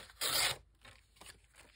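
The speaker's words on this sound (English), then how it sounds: "I want you to be able to see that it's a paper bag. So I am tearing it" Paper bag being torn by hand in a crafting session, a loud crisp rip lasting a moment, followed by fainter rustling and handling of the paper.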